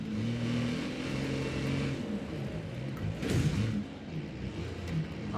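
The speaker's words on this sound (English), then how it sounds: "Formula, whoop, whoop, whoop. A racing truck, you know what I mean. That's what it sounds like to me." Racing truck engine in the video game Wreckfest 2: a steady, loud mid-pitched engine drone with revving swells and a brief surge partway through, alone without voices.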